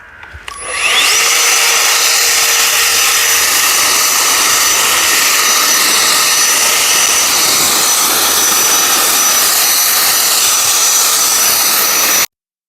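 A loud, steady roaring whoosh of a cordless leaf blower clearing a garden starts up abruptly and runs continuously at close range before cutting off.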